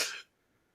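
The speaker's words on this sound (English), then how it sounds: "He's coughing." A single short cough from a person, fairly faint and alone, cut off quickly into near silence.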